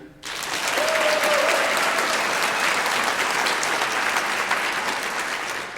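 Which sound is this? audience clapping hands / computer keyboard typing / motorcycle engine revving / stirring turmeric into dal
audience clapping hands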